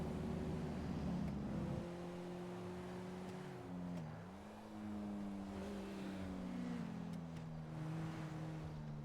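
Engine drone of a car driving in GTA 5, a steady low hum with gently shifting pitch as the vehicle speeds up and slows, heard alone with no talk over it.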